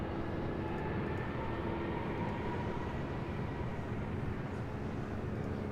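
Aging 26-year-old Boeing 767-300ER airliner at Los Angeles International Airport, heard as a steady, fairly quiet engine rumble with a faint tonal whine running unbroken and alone throughout.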